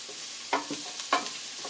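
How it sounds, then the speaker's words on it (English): Carrots and onions sautéing for a beef stew, a soft steady sizzle broken by two or three distinct scraping stirs of a utensil across the pan, close by. "Adding carrots. You want to get them kind of a little bit caramelized as well."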